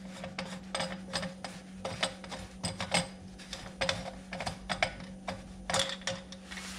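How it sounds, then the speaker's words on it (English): A knob is unscrewed from a pancake air compressor's pressure regulator, giving a close series of small irregular clicks, ticks and ratcheting rattles over a low steady hum, with no talking. "Just unscrew it all the way off."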